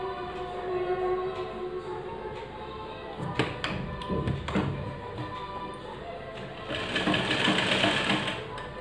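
A sewing machine stitches fabric for a baby face mask, a close whirring hum with intermittent tapping and thumps and a louder run of stitching toward the end.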